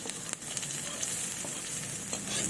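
Garlic sizzles steadily in hot frying oil for a squid adobo with papaya, a close, continuous crackle with a few sharper pops and stirring scrapes, no voices.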